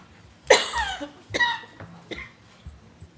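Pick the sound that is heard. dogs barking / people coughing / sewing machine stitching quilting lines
people coughing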